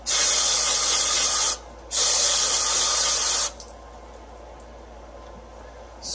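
Two loud hissing bursts of aerosol spray, close by, cleaning metal chips from a Honda F20B engine, separated by a short pause, then quiet.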